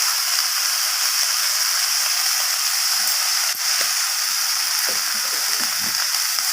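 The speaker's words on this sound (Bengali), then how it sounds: "আদা আর লবণটাকে দিয়ে আবারও ভালোভাবে আমি কষিয়ে নেব সবজির সাথে" Ginger paste and salt sautéing with vegetables in oil for rohu fish curry, a steady loud hissing sizzle throughout with faint stirring scrapes toward the end.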